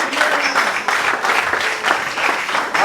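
A church congregation claps and cheers for Jesus in sustained, dense applause. It swells in repeated waves and stays loud through the whole moment.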